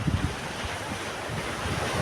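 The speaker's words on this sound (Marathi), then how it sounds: "हा सगळा समुद्र" Surf washes onto a beach at Harnai with a steady broad roar, gusts of wind buffeting the microphone and adding low thumps throughout.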